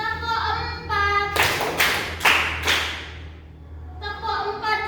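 A class of trainees claps together in quick bursts, four crisp claps in a row with the last one ringing out slightly, framed by an instructor speaking at the start and end.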